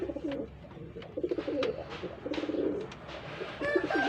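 A pair of pigeons set up for mating coo repeatedly nearby, low rolling throaty calls in several bursts with small rustles between them.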